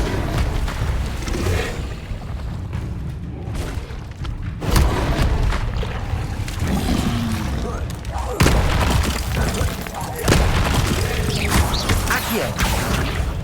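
An Incendio fire spell cast during combat in Hogwarts Legacy, heavy booms and crashing bursts that recur loudly amid other clashing effects, with a voice speaking over parts of it.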